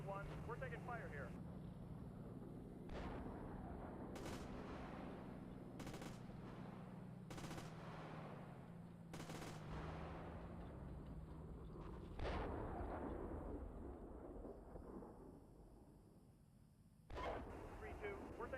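Gunfire in the Steel Beasts Pro PE tank simulator during a training scenario: sustained rumbling fire with repeated sharp bursts throughout, while radio voices talk over it.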